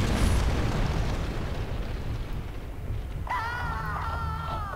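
A fire attack in God of War III erupts as a rumbling explosive burst, fading out before a short burst of bright, wavering tones near the end.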